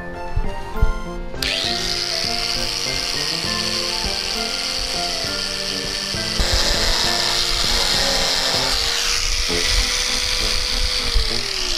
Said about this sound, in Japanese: であとここがね少し当たりそうなので、ベルトサンダーで少し削っちゃいます。